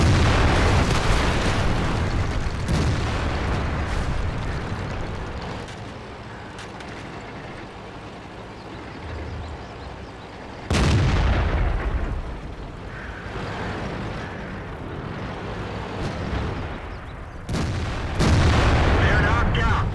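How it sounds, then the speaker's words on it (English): Tank cannon fire in World of Tanks with an IS-8, heard as loud booming shots at the start and again near the middle and end, over constant rumbling engine and battle noise. "Shot from the side here, got to be careful."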